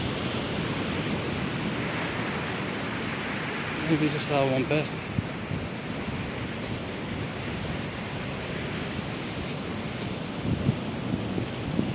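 Sea waves wash onto Copacabana beach in Rio de Janeiro during lockdown, a steady broadband surf roar mixed with wind buffeting the microphone. A voice speaks briefly partway through.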